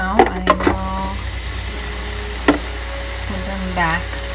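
Mandazi dough fries in hot oil with a steady soft sizzle, broken by a few sharp clatters and knocks from utensils nearby.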